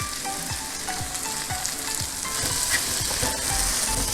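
Curry leaves tossed into a nearly dry mutton roast made in a pressure cooker, crackling and sizzling up close while a spoon scrapes the pan in a regular, repeating stirring rhythm, with no voices.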